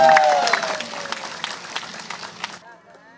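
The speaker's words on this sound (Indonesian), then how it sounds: "tepuk tangan buat semuanya" Audience applause at an outdoor political declaration of support, dense clapping with some voices mixed in, fading out after about two and a half seconds.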